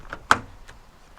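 A rear door of a 2021 Mazda 3 GT Turbo AWD is opened: one sharp close-up latch click and clunk, followed by a few faint rustles in a quiet setting.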